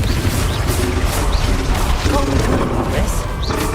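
Confringo explosive spell cast in Hogwarts Legacy, producing dense, loud crashing bursts over a constant rumbling game soundscape, with a few sharper impacts.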